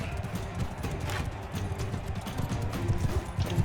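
A horse gallops in the medieval combat game Mount & Blade II: Bannerlord, its hooves drumming in a steady, fast rhythm at moderate volume amid ongoing battle noise.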